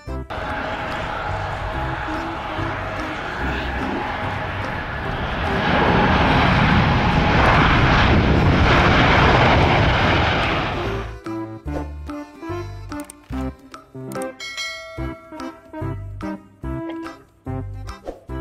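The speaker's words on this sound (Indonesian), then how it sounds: "Pesawat." A loud airplane engine roars and swells for about eleven seconds, then cuts off abruptly and is replaced by rhythmic music.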